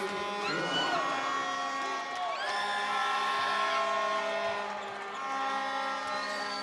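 Angolan basketball fans roar in an arena during an AfroBasket 2021 game against Egypt, a loud sustained crowd swell with whoops and shouts, while whistles and horn-like tones ring over it.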